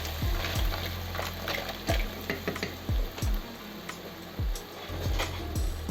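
Mussels or clams tumble into a pot of cioppino seafood stew, clacking shells in a series of sharp taps over a steady background sizzle, close and without talking.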